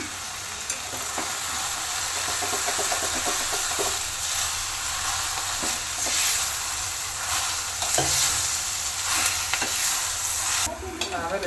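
Fenugreek greens (methi) fried in a pan for methi palya hiss and sizzle continuously up close, with steady scraping and tossing stirs layered throughout and no talking.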